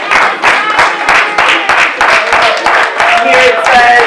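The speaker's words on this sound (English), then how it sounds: "Let's give him a round of applause." Audience at a graduation dinner applauding an award recipient, a loud, steady burst of clapping from a crowd that runs the full length with a few sharper individual claps on top.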